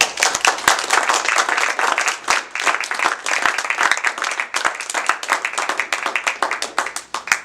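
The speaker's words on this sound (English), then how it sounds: "A little more enthusiastic applause for our friend Charles Thielman" Audience applause at an open mic poetry night, a lively burst of many hands clapping close and continuous for several seconds, with a few voices under it.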